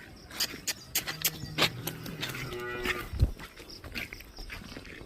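A calf lows several times in a farm setting, a clear, moderately loud moo with a drawn-out tone, alongside faint shuffling and background noise.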